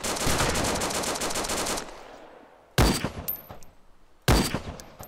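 Bursts of automatic gunfire in the survival video game DayZ: a sustained rapid volley at first, then two separate loud shots or short bursts after a pause, with no talk.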